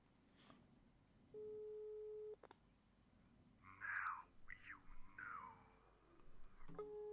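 Electronic busy tone from a telephone in the adventure game The Darkest Woods, a steady beeping tone burst, then a brief double blip and another burst near the end. Whispery voices and faint game sounds fill the pauses.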